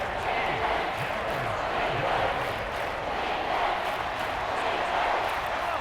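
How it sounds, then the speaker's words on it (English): Stadium crowd at a Kansas City Chiefs versus Seattle Seahawks football game, a steady, loud roar of many voices building before a big third down, continuous throughout with no clear breaks. "the crowd getting into it as we come up on a big 3rd down"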